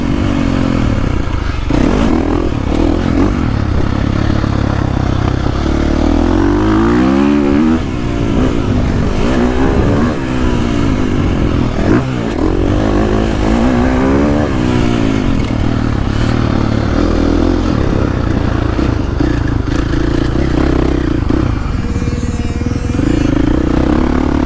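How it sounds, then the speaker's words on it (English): A 2022.5 KTM 450 SX-F Factory Edition dirt bike engine revs and accelerates loudly and continuously, its pitch rising and falling through repeated throttle bursts with some clatter, heard up close without talk. "that's one thing that is really fun on a 450 is that kind of effortless acceleration in wheelies"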